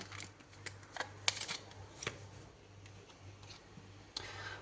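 Tarot cards shuffled and drawn from the deck during a horoscope reading: quiet, close papery riffles and soft snapping flicks in short, irregular bursts, with no talk.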